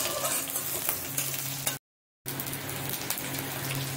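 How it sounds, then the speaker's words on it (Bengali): Chopped onions with black cumin (kalo jeere) frying in hot oil, a steady dense sizzle that briefly cuts out before resuming at the same level. "এবার এর মধ্যে দিয়ে দিব একটু কালো জিরে, দিয়ে পেঁয়াজটা একটু লাল লাল করে ভেজে নিব"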